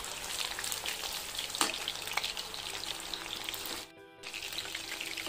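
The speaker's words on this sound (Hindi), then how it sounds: "मैंने इसमें चिकन डाल दिया है और इसे मैं फ्राई कर लेती हूँ" Chicken pieces frying in hot oil over a low-medium flame, a dense, close sizzle that crackles continuously, with a sharp pop or two and a brief dip near the end before resuming.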